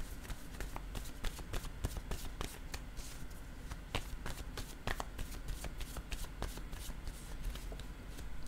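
Word cards being shuffled, handled and laid down on a table, a dense run of soft flicks and light taps, close and steady, with no talk.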